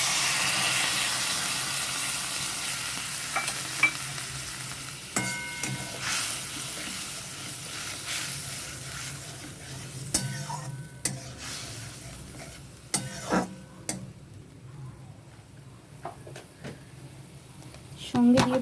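Mustard paste, made from mustard powder soaked in water, goes into a hot pan, bringing soft intermittent sizzling and scraping stirs with occasional sharp utensil clinks, under a person talking.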